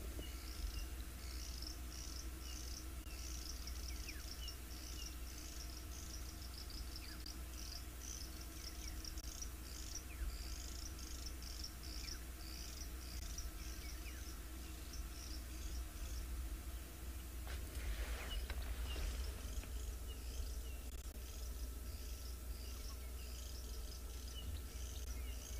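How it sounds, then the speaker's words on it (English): Crickets chirp steadily at sunrise in the African bush, in rapid pulsing trills, with a constant insect background and a brief rustle partway through; no voices. "Sounds like crickets, says Gwen."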